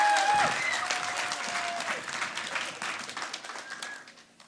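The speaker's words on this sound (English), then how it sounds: "So can we have a big round of applause?" Clapping from the audience at a youth hackathon speech event, strong at the start and tapering off, with a few faint whistles or birdlike tones mixed in.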